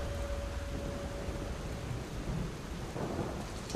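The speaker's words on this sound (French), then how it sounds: "Ambiance soignée, hein, d'orage, là, franchement, c'est cool." Thunderstorm ambience in the video game Lies of P: steady rain hiss with a low rolling rumble of thunder that swells near the end, no voices.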